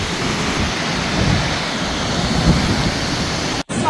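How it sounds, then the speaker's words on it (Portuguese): Heavy, relentless rain pours down in southern Brazil during prolonged flooding, a dense broadband roar that holds steady throughout with one brief dropout near the end. "Continua chovendo praticamente desde sábado de tarde sem parar"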